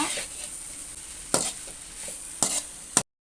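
Leftover chapathi noodles tossed with salt in a pan, heard as a soft, steady scraping and stirring over a faint sizzle, with a few sharper spatula knocks against the pan before it cuts off.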